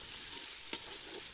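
Cut tomatoes sautéing with ginger garlic paste for a vegetable biryani, a soft, low sizzle with one sharp scrape of a spoon against the pan midway.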